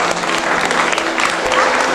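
Audience applause at a Wing Chun kung fu academy's tenth anniversary celebration: dense, steady clapping from a full room, close and loud throughout.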